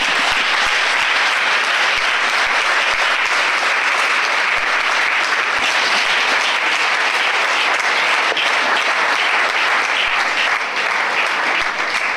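An evangelical church congregation in Côte d'Ivoire bursts into sustained, dense applause at a Sunday service, a loud steady wash of clapping that continues without pause.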